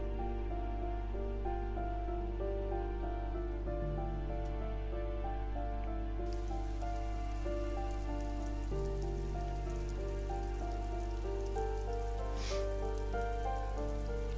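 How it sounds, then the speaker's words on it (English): Continuous steady rainfall in the video game Disco Elysium, a dense even patter over a low sustained musical drone, with no talking. "Oh, still raining."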